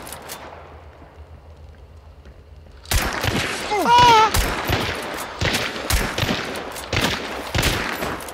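Loud, dense gunfire erupts in a first-person shooter video game after a quiet stretch, with rapid bursts and sharp shots continuing up close through the rest of the clip.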